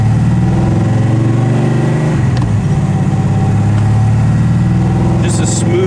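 A custom Chevy Monte Carlo with a 535 HP fuel-injected engine and 5-speed transmission cruises along, its steady mid-range engine drone and low rumble continuous and loud, with a brief shift-like dip partway through.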